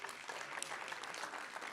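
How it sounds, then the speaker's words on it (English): Round of applause from the audience at a startup pitch competition evening, a steady, fairly faint wash of many hands clapping that carries evenly through the whole moment without pauses. "let's give a round of applause for our sponsors"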